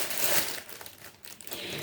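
A plastic bag is crumpled and handled up close, making dense crinkling and rustling that swells and fades unevenly over a couple of seconds, with no talking.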